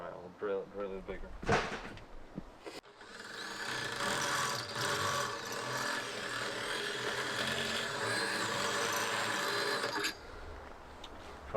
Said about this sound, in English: Alright, I'll drill it bigger.